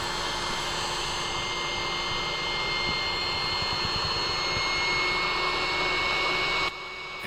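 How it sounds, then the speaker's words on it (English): Small air compressor inflating a Colorado pontoon boat, a loud, steady, close droning whine with a low pulsing rumble, running continuously and alone before a slight drop near the end. "that little compressor I'm using to air it up"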